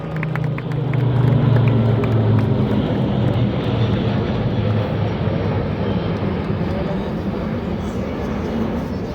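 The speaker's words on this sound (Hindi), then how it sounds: "इस वर्ष के क्लाइमैक्स में आपके सामने होंगे 30 जहाज, जिनमें 16 फाइटर, 4 ट्रांसपोर्ट, 9 हेलीकॉप्टर" Military aircraft flying past in formation over the Republic Day parade on Kartavya Path, New Delhi: a loud, sustained roar of jet and propeller engines with a low droning hum, steady throughout and close overhead.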